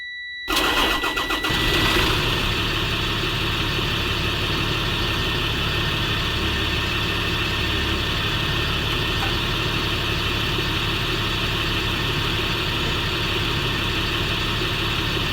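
Freightliner FS-65 school bus engine in the Rigs of Rods driving game cranks over and catches, then settles into a steady, loud diesel idle that runs alone with no talk.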